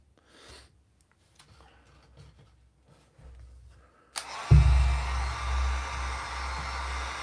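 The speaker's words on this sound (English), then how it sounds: "This is my heat gun." Wagner heat gun switching on partway through after quiet handling noises, then a loud steady rushing blast of hot air drying paint, close and alone.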